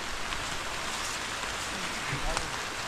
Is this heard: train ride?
no